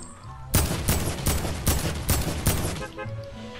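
An AK rifle in Fortnite fires a quick burst of about six loud, sharp shots in steady rhythm, then cuts off into quiet game ambience.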